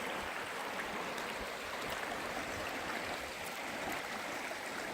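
A babbling brook in Colorado rushes and splashes in a steady, close broadband wash of flowing water that holds constant throughout, with no voices over it.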